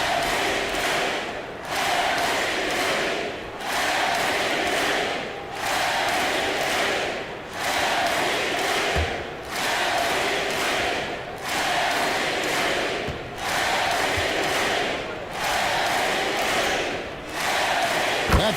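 Crowd roar in a basketball arena from NBA 2K25, a Lakers home game against the Philadelphia 76ers, rising and falling in repeated loud swells about every two seconds, with occasional thuds underneath.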